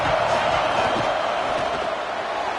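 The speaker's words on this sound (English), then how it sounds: "This crowd ready to make its presence known." A football game crowd roars in a dense, continuous wall of noise that holds steady throughout, with a voice talking over it.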